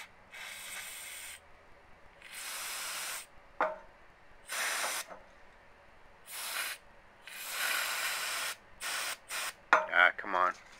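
Short bursts of carburetor cleaner spray onto a generator piston hiss on and off, several separate squirts of varying length, close and fairly quiet, with a few clinks near the end.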